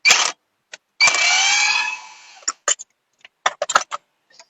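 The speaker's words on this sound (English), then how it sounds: "Got 32 millimeter. Take the axle nut off." A 32 mm socket on a power tool spinning off the front axle nut of a 2009 Jeep Compass with a bad wheel bearing: one sustained loud whirring burst, then several short sharp bursts and clicks with silent gaps.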